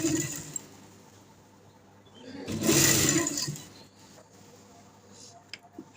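A sewing machine stitches a round neck design into garment fabric, rising into one loud continuous burst of stitching near the middle, with quieter handling noise before and after.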